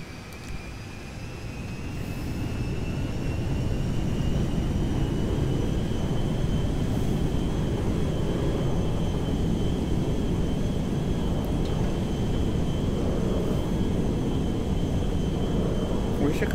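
An aircraft in GTA 5 roars steadily on its takeoff run, a loud, continuous engine drone with a thin high whine, building over the first two seconds and then holding full throttle throughout.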